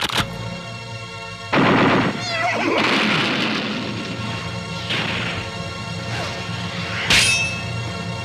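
Cartoon weapons fire in an animated Bravestarr western: several loud, sharp blasts about a second apart, each with a bright crackling tail, over a busy backdrop with a horse whinnying.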